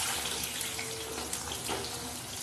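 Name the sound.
wet cut potatoes spattering in hot oil with cumin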